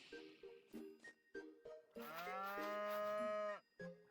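Several short cow moos from a Harvest Moon: The Winds of Anthos farm game, ending in one long, drawn-out bellow, with soft chime-like tones between calls.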